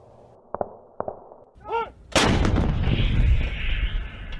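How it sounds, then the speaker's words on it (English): An artillery sound effect plays a few small clicks and a rising whine, then a loud, close blast whose heavy rumble rolls on and slowly dies away. "The German artillery battery responds with an effective mission that causes casualties and pins several vehicles."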